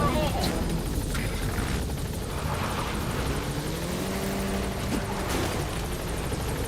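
A helicopter in the video game Metal Gear Solid V: The Phantom Pain hovers and lifts off with a loud, continuous rotor drone and engine whine, mixed with game sounds and radio voices.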